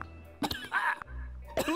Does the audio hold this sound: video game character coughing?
yes